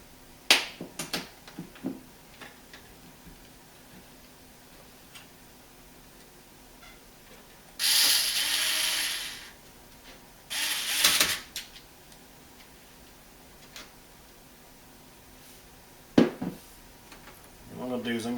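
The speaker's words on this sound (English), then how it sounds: "I'm going to go ahead and return this mounting plate back into the system" An SSD mounting plate is fitted back into an iBUYPOWER prebuilt PC: scattered small clicks and taps, two short bursts of scraping metal rustle, then a sharp click near the end, all faint and close.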